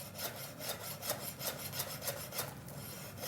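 Knife slowly cutting through sushi, a quiet, even back-and-forth rasping of the blade in a steady sawing rhythm of about a dozen strokes, close and faint with no talk.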